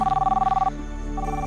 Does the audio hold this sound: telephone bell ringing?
yes